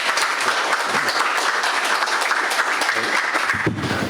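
A forum audience gives a speaker a warm welcome with steady, dense applause at a Korean plastics forum, a continuous even wash of many hands clapping throughout.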